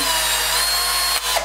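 A freshly lubricated cordless drill chuck spins as it is screwed and unscrewed, giving a loud, steady motor whir that stops abruptly near the end and is followed by a short mechanical rattle.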